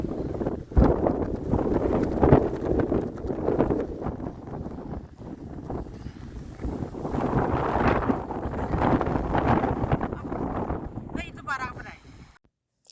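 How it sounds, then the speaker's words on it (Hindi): Strong, cold snowstorm wind gusts hard into the microphone, a loud buffeting roar that swells and eases in waves, with a voice talking intermittently beneath it before it drops out abruptly at the end. "ये हवा इतनी ज़्यादा थी ना जिसकी वजह से मुझे वॉइस ओवर करनी पड़ी"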